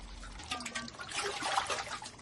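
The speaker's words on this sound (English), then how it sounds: "People rinse out pots in the tanks and clean their freshly picked vegetables." Water trickles and drips softly as pots and freshly picked vegetables are rinsed in a village tank in rural Satoyama, Japan. The sound is faint and close, with small splashes and no voices.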